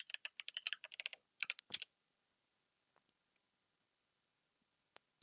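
Quick bursts of close keystrokes on a computer keyboard while entering a username and password, a rapid clatter of about a dozen keys, then near silence with a couple of isolated taps.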